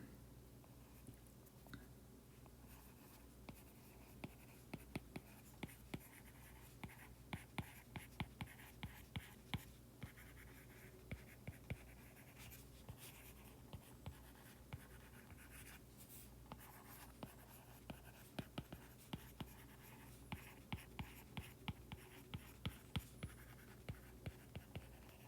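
Pen or chalk writing during a physics lecture on one-dimensional motion: repeated short scratchy strokes and taps, faint and close, in irregular bursts across a quiet room.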